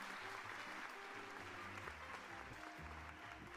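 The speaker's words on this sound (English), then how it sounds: "Not fart sound, clap sound." A clapping crowd sound effect plays under a livestream, a faint dense wash of applause with a hum of tones beneath it.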